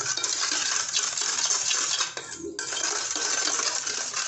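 Sugar being stirred into liquid in a bowl for biscuit pudding, a close, continuous gritty swishing and scraping with light clinks, briefly pausing midway, with no voices.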